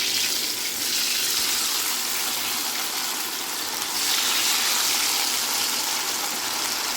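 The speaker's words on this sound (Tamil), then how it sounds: "இப்போ நம்ம வந்து சட்டியில் எண்ணெயை ஊற்றி இப்போ நம்ம வந்து இதை எண்ணெயில் போட போகிறோம்" Cauliflower pieces frying in hot oil, a steady dense sizzle and crackle that swells slightly partway through, heard close and alone without talk.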